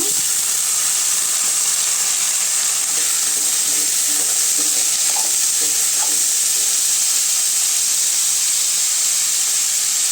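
Chopped chayote frying in a pan with browned onions, giving a steady, even sizzle and hiss that runs throughout with faint stirring.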